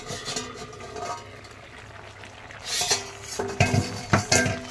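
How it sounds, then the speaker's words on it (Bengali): Metal lid clattering off a pot of simmering pea and vegetable ghat, with a few sharp clinks and scrapes of pot and utensil in the later part, close by and moderately loud, no voices. "তো এবার ঢাকনাটা তুলে দেখবো যে কেমন হয়েছে"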